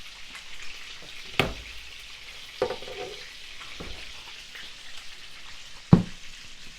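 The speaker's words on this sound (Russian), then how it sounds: "Котлеты жарятся." Cutlets sizzle in a frying pan with a steady soft hiss, broken by a few sharp clinks and scrapes of a utensil against the pan; no voices.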